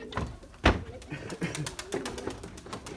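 Pigeons cooing inside a loft, with soft repeated coos and wing flutters close by, mixed with rustling and faint background chatter.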